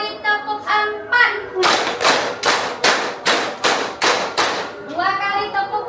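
Children in a classroom clapping game beat out two rounds of four sharp, close hand claps in a steady rhythm, with children's voices chanting before and after.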